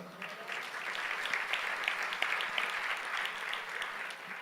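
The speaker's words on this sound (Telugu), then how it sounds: "నిజంగా అర్థమయ్యే చప్పట్లు కొట్టారా" A congregation claps during a Telugu sermon on prayer. The applause is faint and distant, a continuous patter of many hands with crisp individual claps standing out.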